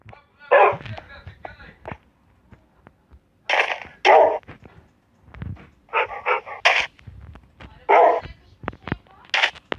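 A Minecraft dog barks and yelps in short bursts, several times over about ten seconds, with brief gaps between them, sounding close up.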